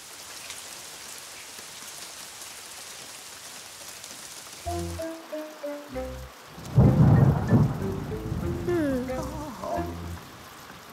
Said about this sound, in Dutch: Nu regent het nog harder.